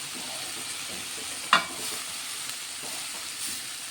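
Cabbage and chana dal curry stirred in a hot pan, a steady sizzle throughout with one sharp scrape of the spoon against the pan, close up.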